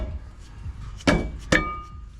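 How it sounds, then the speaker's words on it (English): A rubber mallet strikes a rusty bolt on the drum brake of an 89 Ford Econoline, two distinct, close, solid knocks about half a second apart over quiet background rustle. "with some persuasion, I got a rubber mallet here"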